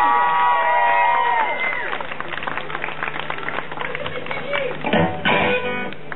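A concert crowd at an evening show in Rebecq cheers, whoops and claps loudly nearby as a singer is welcomed, with voices and shouts mixed through the applause and a brief burst near the end.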